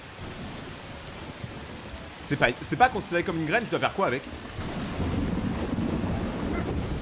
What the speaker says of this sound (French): le tonnerre